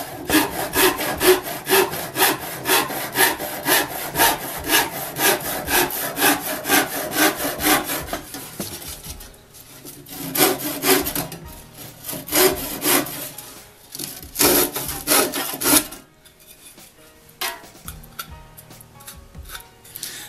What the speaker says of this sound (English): It's 10 teeth per inch. So cutting this plywood, which would tend to splinter on me,